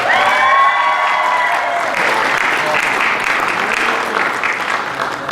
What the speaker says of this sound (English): give your parents, guardians, and those who support you a round of applause